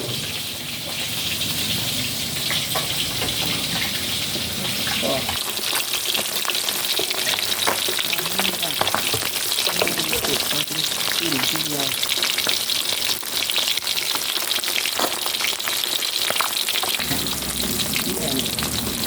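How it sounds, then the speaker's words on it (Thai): Sun-dried fish frying in hot oil, a steady loud sizzle and crackle filling the whole stretch, with someone talking briefly over the bubbling. "อันนี้ทอด ชุดแรกนะครับ"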